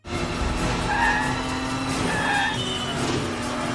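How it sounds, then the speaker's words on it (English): Tires squeal in drawn-out skids over the steady roar of a car engine during a car chase through city streets, the screeches rising twice in close succession, loud and near. "the car chase scenes through Nice and Paris, all filmed live"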